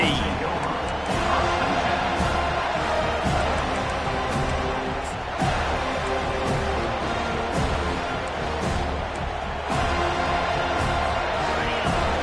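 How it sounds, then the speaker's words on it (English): A college football stadium crowd at an FSU vs SMU game keeps up a dense, unbroken roar of yelling and cheering, while a commentator talks over it throughout. "This crowd trying to make life miserable for this offense"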